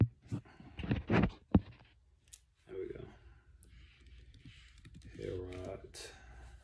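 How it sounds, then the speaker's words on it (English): A search being typed on a computer keyboard, a quick burst of loud key clicks near the start, then someone talking. "when you type in Herod on the Google, it'll say, let's see here"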